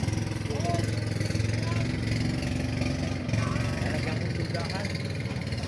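A boat engine idles with a steady low rumble throughout, while people talk over it close by.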